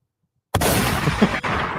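A single sharp gunshot sound effect bursts in abruptly after a moment of silence, then a loud ragged rumble of echo and noise fills the rest, with a second hit near the end.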